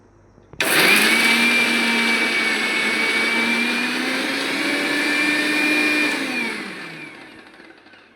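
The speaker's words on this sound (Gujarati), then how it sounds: "હવે આપણે આ બધું મિક્સર કરી દઈએ." A mixer grinder grinds a spice mixture for Khambhat-style dabda bhajiya. It starts abruptly into a loud, steady whirring roar that holds for several seconds, then winds down and fades.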